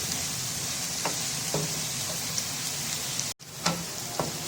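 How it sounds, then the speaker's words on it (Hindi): Bitter gourd (karela) slices frying in hot oil over a high flame, a steady, faint sizzle with occasional small pops and spatters, no talking. "इन्हें तेज फ्लेम पे फ्राई करने हैं, लाइट फ्लेम पे फ्राई नहीं करने हैं"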